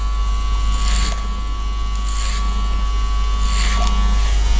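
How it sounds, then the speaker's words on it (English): A Babyliss FX Pro hair clipper set half open buzzes steadily at close range while cutting hair for an Elvis pompadour, with the hum swelling in brief passes as it runs through the hair. "Set my clipper to half open on the Babyliss FX Pro"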